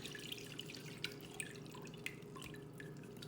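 Liquid for homemade cough syrup poured into a small strainer, a quiet trickling with scattered drips and light splashes throughout, close and without talk.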